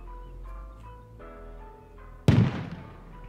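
A rocket blast hits during a base raid in a video game, one loud sudden explosion that rumbles and decays after a stretch of steady low game ambience and music-like tones.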